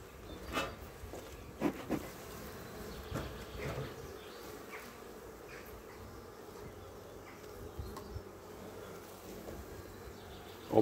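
Honeybees buzz softly around an opened hive during a colony inspection, a faint steady hum broken by a few scattered knocks and light taps from the handling.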